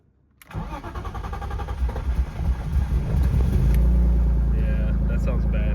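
A faulty car engine cranks over and catches, then runs roughly and unevenly at a loud, close idle that grows steadier and heavier toward the end.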